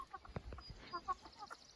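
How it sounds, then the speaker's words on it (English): Backyard garden chickens cluck softly while pecking at spinach and lettuce, with short, scattered low clucks and a few brief higher calls, faint and at a distance, with no speech. "I just gave the chickens some spinach and lettuce, and look at them."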